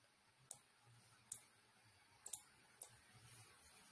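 Four sharp computer mouse clicks, spaced irregularly and close, against a quiet room with no talk, during click-and-drag file handling on a computer.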